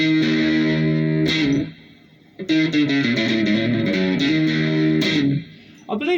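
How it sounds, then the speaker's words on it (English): Guitar played through a small made-in-Mexico Champ amp fitted with an Accutronics spring reverb, chords and single notes ringing out with lush, splashy reverb tails between loud strummed phrases. "I'm just going to get Accutronics reverb on this little champ."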